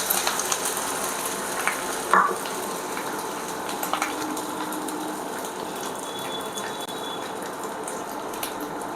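Whole cumin, bay leaves and ginger frying in hot oil for a Bengali rohu fish curry, giving a steady soft sizzle and crackle with one brief louder pop, with no talking over it.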